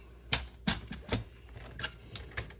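A paper trimmer scoring card at half-inch intervals, producing a series of sharp, close clicks and short scraping strokes, about seven of them spaced irregularly.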